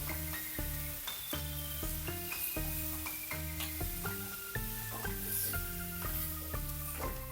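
Tomatoes sauté in a pan with a continuous soft sizzle beneath a melody of stepped musical notes that plays throughout.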